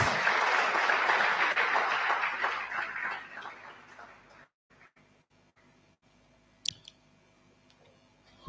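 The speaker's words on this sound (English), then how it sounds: "Please, another round of applause for those remarks." Audience applause at a university matriculation ceremony, a dense burst of clapping that fades over about four seconds, followed by near silence with a few faint clicks and a sharp tap near the end.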